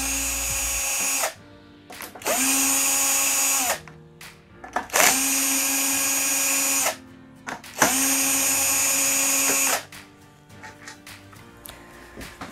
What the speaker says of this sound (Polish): Do tego celu użyjemy sobie wkrętareczkę.